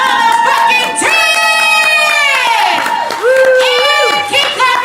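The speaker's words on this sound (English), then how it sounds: "And keep clapping, keep clapping" Poetry slam audience erupting in loud, sustained cheering, whooping and clapping, with high shrieks and shouts rising and falling over the applause.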